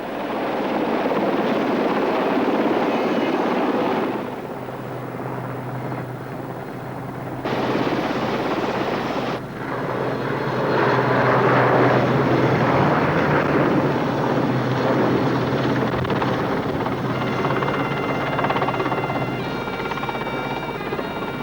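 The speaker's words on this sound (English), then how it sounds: "the only way to remove the wreckage was by helicopter" A steady, loud helicopter rotor and engine drone fills the whole stretch, with a brief shift in tone midway, the helicopter nearby while lifting Spitfire wreckage.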